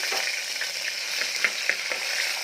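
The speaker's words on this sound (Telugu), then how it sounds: "ఆయిల్ వేడైన తర్వాత షాహీ జీరా లవంగం పువ్వు చక్కీ అన్నీ ఫ్రై చేసుకోవాలి" Whole spices like shahi jeera, cloves, star anise and cinnamon fry in hot oil for tomato bath, making a loud, steady, close sizzle with small pops and light stirring.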